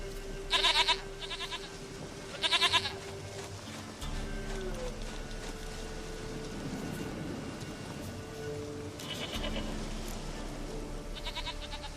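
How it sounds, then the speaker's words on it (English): Goats bleat in The Witcher 3, with short bright cries repeating in bursts over a steady game soundscape of low music and ambience. "Goat of mine!"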